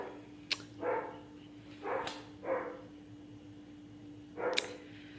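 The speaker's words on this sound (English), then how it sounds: "Sorry if you hear the dogs barking in the background" Dogs bark a few times in the background, scattered single barks over a steady low electrical hum.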